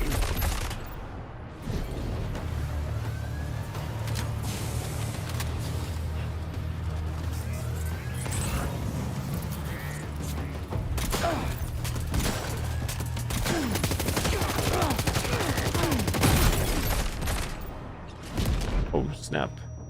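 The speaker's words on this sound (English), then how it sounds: "Like, who's shooting?" Video game gunfire rattles in dense, continuous bursts with heavy booms and crashes throughout, loud and close, with voices talking over the shooting.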